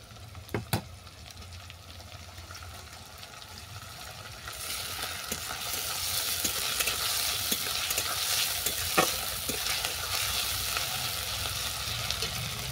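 Onion frying with ginger-garlic paste starts with a couple of sharp spoon knocks over a low sizzle, then the hiss swells louder and brighter, with occasional stirring scrapes, close up.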